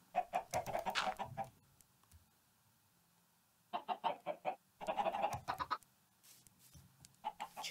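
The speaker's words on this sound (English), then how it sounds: "Chicken." Chickens cluck in a video game, several bursts of bright, close clucking separated by short quiet gaps, with no talk over them.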